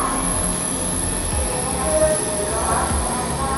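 A Chinese high-speed train running at about 300 km/h, heard from inside as a steady loud rumble and rail roar with a faint high whine, continuous throughout.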